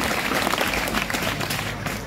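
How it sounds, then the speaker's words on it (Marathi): Audience applause at a Marathi motivational talk, many hands clapping in a dense, steady burst that thins slightly toward the end. "एकदा आपल्यासाठीच टाळ्या वाजवा"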